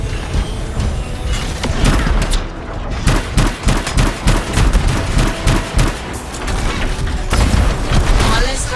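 Gunfire and a heavy blast tear apart an enemy turret in the video game Anthem, with dense rapid shots and booming impacts running throughout and a voice talking over the action.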